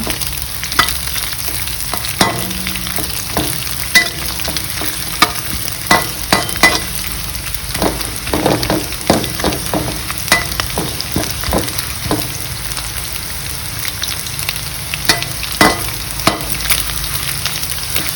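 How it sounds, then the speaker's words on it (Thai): Small fish dry-roasted in a pan over medium-low heat, stirred steadily: a continuous low sizzle broken by frequent sharp scrapes and taps of the utensil against the pan, close and fairly loud, with no talking. "อันนี้เราจะคั่วไฟ ไฟ กลางนะคะ กลางค่อนข้างอ่อน เราก็คั่วอย่างเงี้ยไปเรื่อยๆจนกระทั่งปลาสุกเหลือง"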